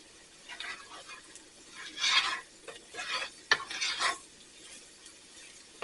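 A gluten-free, dairy-free flour and oil roux is stirred with browned chicken in a pan. The close, soft scraping and sizzling comes in uneven bursts, with no voices.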